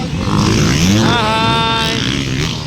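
85cc motorcycles race past at a local race in Passi City, Iloilo, their engines whining loudly and rising and falling in pitch as they pass close by, with crowd noise around them.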